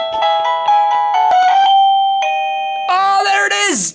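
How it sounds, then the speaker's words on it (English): A Nest Hello-style video doorbell plays a ringing tonal melody of repeated chime notes, loud and close, followed by a brighter rising jingle that cuts off abruptly. "Oh, there it is! Ding Dong!"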